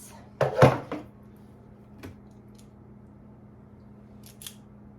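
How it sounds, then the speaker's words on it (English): A knife chops garlic cloves on a board in a small cluster of close, sharp cuts near the start, then a single knock and a faint tap further on, with quiet room tone in between. "let's get these garlics chopped up"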